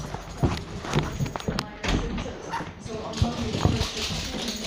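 Dog barking mixed in with people talking and shouting at close range, with scattered clattering noises running through the busy scene.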